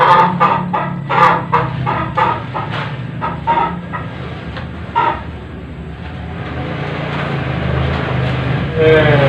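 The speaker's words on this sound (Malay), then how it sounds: "Ayam ni dia, ayamnya." Chickens cluck close by in a busy, noisy setting, with a steady din underneath throughout the clip.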